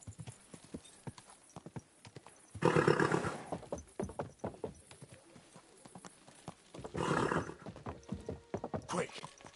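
Rhythmic hoofbeats clip-clop steadily at close range, with bursts of louder noise and a voice speaking in places.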